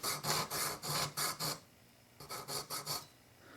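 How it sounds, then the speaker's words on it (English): Rasping strokes of a jeweler's saw deepen the slot of a flute pivot screw, cutting in two bursts of quick, even back-and-forth strokes separated by a brief pause, close and clear with no talk. "You take your jeweler's saw and you put it in the screw slot. And then you cut just a little bit farther"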